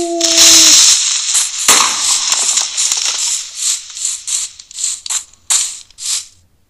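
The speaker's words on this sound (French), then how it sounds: "Il explose." A loud explosion in the video game Crafter, a sharp blast followed by crackling, ratchet-like debris bursts that thin out into short separate pops.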